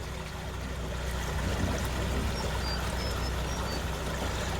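A pontoon boat's outboard motor idles on a river, a steady low rumble mixed with broadband wash and water noise that holds constant throughout.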